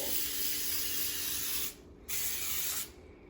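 Continuous hissing of cooking spray onto a baking pan in two long bursts with brief pauses between, close and steady.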